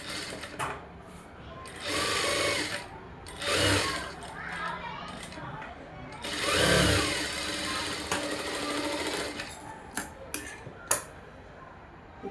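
A sewing machine stitches along one side of a blouse in bursts of fast mechanical running, several separate runs of stitching broken by pauses and small clicks, close and moderately loud.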